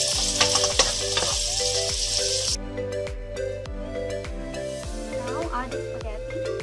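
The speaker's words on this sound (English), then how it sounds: "We add the shrimps. And let's cook for about 2 minutes." Shrimp frying with garlic in a hot pan, a close, loud sizzle with rhythmic stirring scrapes that begins hissing and settles into softer crackling and popping.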